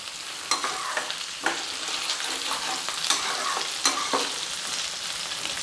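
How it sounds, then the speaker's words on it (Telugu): Tomato, onion and masala fry in a pan for a cashew fish curry, stirred and turned with a spatula: a close, steady sizzle broken by regular scraping strokes, with no talk. "ఇదిగో ఈ టమాటా మొత్తం ఇట్లా తిప్పేసుకుందాం, వన్ సైడ్ నుంచి ఇంకా వన్ సైడ్."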